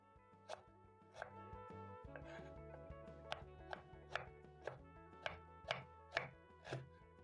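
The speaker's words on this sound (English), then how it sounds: "Then I'm going to chop my ginger into smaller pieces so that it can be easier for me to blend." Fresh ginger chopped into smaller pieces with a knife on a cutting board, a quick run of distinct close knocks, about a dozen, falling in a fairly even rhythm.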